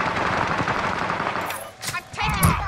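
Rapid machine-gun bursts in the video game Warzone, dense and steady through the first half, then breaking into sharper separate shots with a voice briefly talking underneath.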